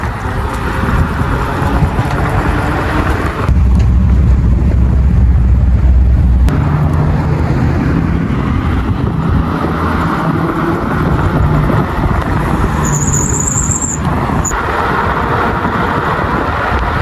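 Electric scooter on the move, with steady broadband wind rush and road noise and a low motor hum, loud and continuous throughout with no talking.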